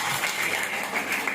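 Audience applause at a college career-cell event, sustained dense clapping throughout, steady and moderately loud with no talk over it.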